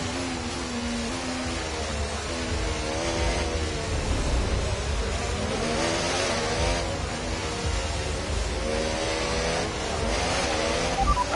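An F1 car engine in F1 24 roars continuously, its pitch rising and falling as it revs and shifts, loud and steady with no voices.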